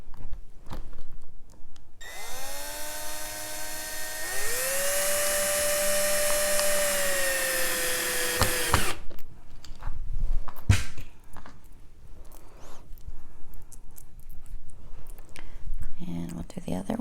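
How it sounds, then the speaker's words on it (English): A cordless drill driving screws whirs for several seconds, its motor climbing to a higher, steady pitch, then stops, followed by clicks and handling noises. "I always use my cordless drill instead of using just a screwdriver."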